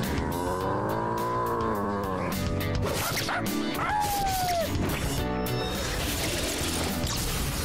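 Dog barks and yips from the Persona 3 Reload video game, layered over loud game music and effects, with a few sharp bark-like bursts in the middle.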